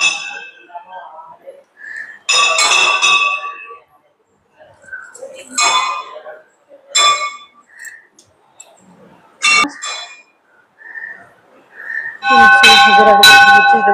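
A large bell at the Mahamai temple in Boirani, Ganjam district, rings out in loud, resonant metallic strikes, with people talking and calling between the peals.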